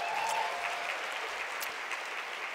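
An audience at an awards luncheon breaks into sustained applause, a broad, steady patter of many hands heard at moderate distance, with a faint voice briefly audible.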